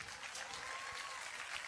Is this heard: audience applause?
yes